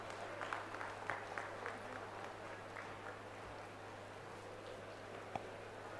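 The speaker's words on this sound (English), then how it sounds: "Can we have a huge applause for today's guest of honor?" An audience applauds at a university international research conference, giving a faint, diffuse patter of clapping in a large hall, steady throughout with one sharper clap near the end.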